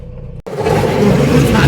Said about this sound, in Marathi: चला गाईज आता आपण गाडी चालूया